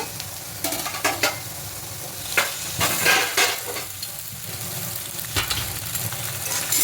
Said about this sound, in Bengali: সবজিগুলো ভাজা ভাজা হয়ে এসেছে এবার এখানে পাস্তাটা দিয়ে দেব